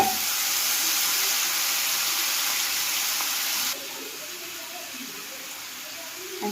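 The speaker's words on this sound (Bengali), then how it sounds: "তেলটা গরম হয়ে গেছে, তেজপাতা দিয়ে দেবো, জিরা দিয়ে দেবো, এখন চিকেনটা ঢেলে দেবো।" Chicken poured into hot oil with bay leaf and cumin, a loud steady sizzle that drops in volume partway through and continues more quietly to the end.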